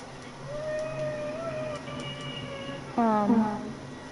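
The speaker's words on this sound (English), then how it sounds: "She's crying because she has to go to bed." A young child cries at bedtime somewhere in the background, giving thin wavering wails and then a louder sobbing burst, faint beneath a nearby voice talking over game sounds.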